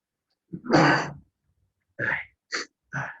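A single sharp sneeze bursts out near the mic, followed by a few short breaths and murmured sounds.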